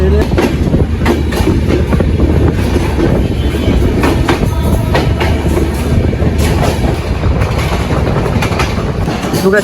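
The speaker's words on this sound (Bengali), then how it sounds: "আমাদের ট্রেন কিন্তু ছেড়ে যাচ্ছে কমলাপুর রেল স্টেশন থেকে দ্রুতযান এক্সপ্রেস" Drutojan Express train pulling out of Kamalapur railway station, a loud, steady rumble with rhythmic clattering of wagons on the rails, continuous and close throughout.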